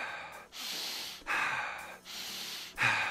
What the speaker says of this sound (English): Just in through your nose, get that nitric oxide, which is in the back of your nose, out through your gut.